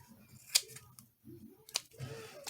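Scissors snip through glue-coated paper while altered playing cards are made, giving three sharp, close cuts spaced about a second apart over a quiet background.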